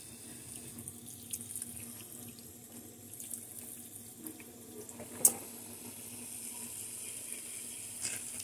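Fruit washed under a running kitchen tap, a steady close stream of water hissing into the sink with small splashes, a few clicks and one sharp clatter midway, no talking.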